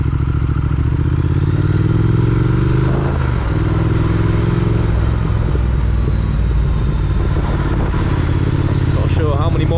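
A Triumph Speed Twin motorcycle pulls away on a sunny Saturday ride, its engine rumbling loud and close with rising revs and gear changes amid clattering road noise.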